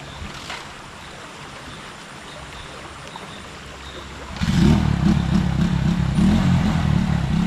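A small engine sputters to life partway through and keeps running with a steady, throbbing chug, close by, after a stretch of quieter ambient noise.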